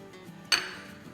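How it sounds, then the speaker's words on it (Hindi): The metal lid of a pressure cooker is pushed shut with a single sharp clink partway through, its metallic ring fading quickly over a low kitchen background. "तो अब हम कुकर को बंद करेंगे।"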